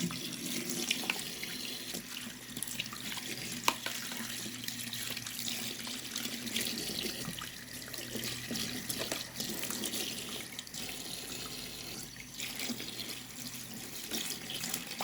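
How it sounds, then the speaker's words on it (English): Tap water runs steadily into a sink while fidget toys such as poppets are rinsed underneath, a close, continuous hiss and splash with small shifts as the items move in the stream. "Time to rinse them off."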